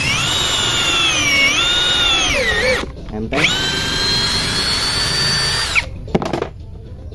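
A loud impact drill on speed 2 whines steadily while boring, pitch sagging under load, stops briefly, then runs again before cutting out; a voice speaks a single word.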